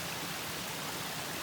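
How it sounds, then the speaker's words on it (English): Water runs steadily out toward a neighbor's stream, a soft continuous rushing wash heard faintly, with no voices. "you can tell this is where all of the water is running out"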